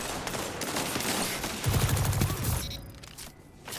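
Submachine gun fire in a Destiny Crucible match: a fast, rattling burst of rapid shots at close range, ringing out for about a second over busy game background, then fading to quieter ambience.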